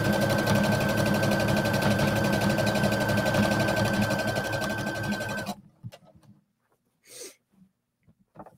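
A sewing machine stitches along a bralette lining seam, a loud steady whirring run for about five seconds that then stops, leaving faint handling sounds and a brief breathy noise.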